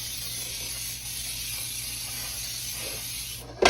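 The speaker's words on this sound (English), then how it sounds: "I used my Baker's Joy here. And I'll spray this really good." Baker's Joy baking spray hisses from the can into a baking pan in one continuous close spray, ending with a short louder burst.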